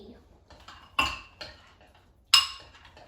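A spoon scrapes chocolate chips out of a bowl into a mug, giving two sharp ceramic clinks about a second apart with softer scraping and rattling in between, close and clear.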